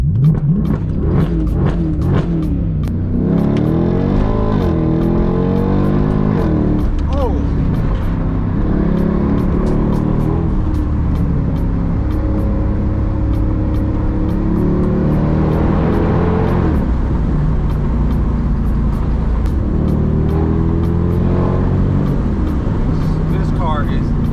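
A loud straight-piped Mercedes CL63 AMG V8 engine with open exhaust revs repeatedly, rising and falling in pitch with harsh crackles, voices talking over it.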